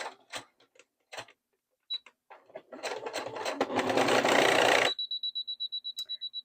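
Sewing machine stitching a headband seam: a few scattered clicks and taps, then a close, loud burst of rapid whirring stitching, followed by a rhythmic ticking run of single stitches.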